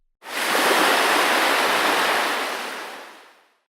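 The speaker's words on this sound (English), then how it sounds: "Our samplers include our white noise parameters, but also include many other sounds, such as waves," Ocean waves sample from a synthesizer's sampler, a single broad surge of washing noise that swells in quickly, holds, then fades out over about three seconds, clean and alone.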